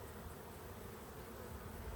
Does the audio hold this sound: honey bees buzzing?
yes